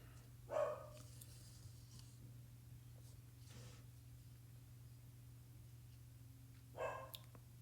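A dog barks two separate times, several seconds apart, indoors and at a moderate distance, over a constant low electrical hum and faint rustling, with no speech.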